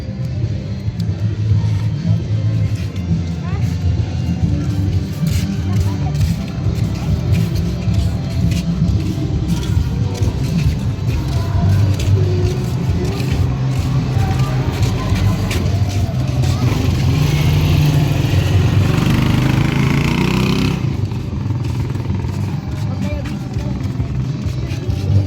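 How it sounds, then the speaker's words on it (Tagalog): Busy road traffic near a beach in Puerto Princesa, Palawan, with cars and motorcycles rumbling and revving past in a steady loud stream, while people chat over it. "Dami sasakyan"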